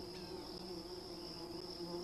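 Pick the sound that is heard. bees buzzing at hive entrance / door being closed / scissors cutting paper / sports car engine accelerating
bees buzzing at hive entrance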